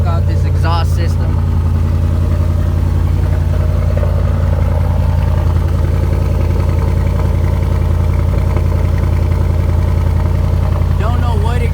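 A 2014 Ford Mustang GT with the 5.0 engine idles with a loud, steady, deep exhaust rumble close by. The low growl holds even throughout, with brief voices near the start and end.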